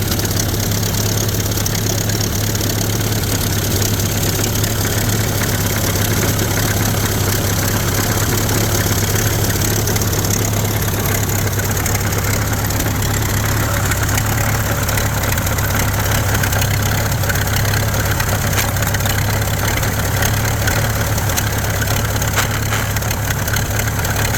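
A $35 Model A Ford engine runs close by, a steady, continuous mechanical idle with rattly, clattering texture holding at an even level for the whole stretch, with no voices.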